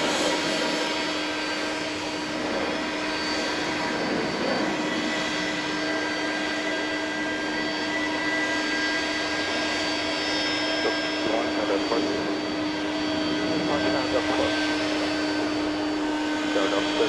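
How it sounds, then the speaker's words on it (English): Jet airliner taking off at Atlanta airport at night, a steady broad engine roar that holds at moderate distance throughout, with faint talk underneath. "See if we can get you a takeoff here."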